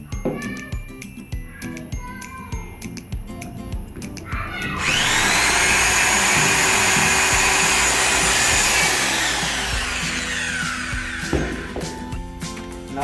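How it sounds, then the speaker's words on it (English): A handheld electric drilling machine bores a hole into a plastic bottle cap, rising to a loud, steady whine for several seconds before winding down. "First, let's drill a hole in the bottle cap."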